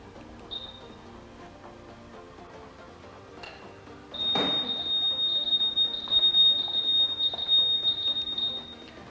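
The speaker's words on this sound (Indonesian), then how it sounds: "itulah tadi contoh bagaimana alarm All New Scoopy ini bekerja" A Honda Scoopy motor scooter security alarm sounds a steady high-pitched warbling beep, starting after a brief chirp and a clunk, continuing loudly to the end.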